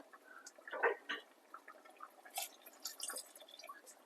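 Coconut milk and water pour into a pot of rice with ground tomato and chili paste for chickpea biryani, heard as a few soft splashes and drips, fairly quiet, with no talking.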